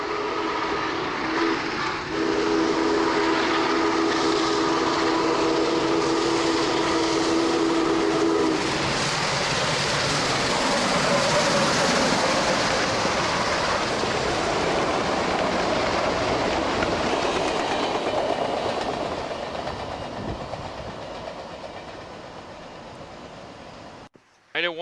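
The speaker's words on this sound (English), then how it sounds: "One's whistle echoes across the valley." A steam whistle wails over the heavy, steady rumble of a running train on the Elk Valley line, its tone carrying and echoing across the valley before the noise gradually fades.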